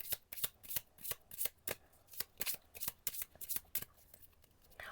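Red oracle cards being shuffled by hand, a quick series of crisp riffling flicks and slaps in an irregular rhythm, close and fairly quiet, with no talking.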